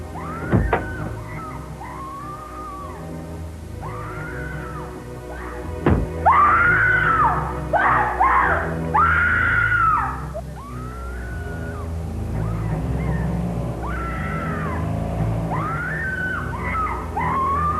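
A young woman screams repeatedly in a played recording, long wailing cries in a steady run lasting several seconds, with a couple of sharp thumps and a muffled, noisy backdrop as the cries fade later on.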